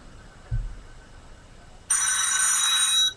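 A telephone rings with a bright, steady electronic trill that sounds loud and close for just over a second, after an earlier dull thump and quiet room tone.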